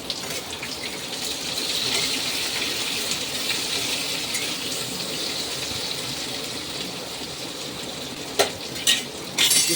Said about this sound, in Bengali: এদিকে করলা ভাজা হচ্ছে